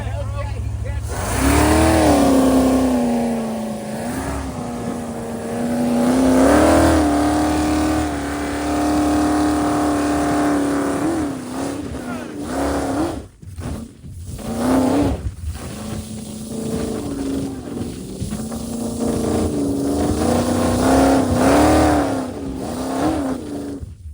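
A Dodge Hellcat's engine drones and revs near Lake Havasu, a loud sustained tone that rises and falls in pitch several times, with people talking over it.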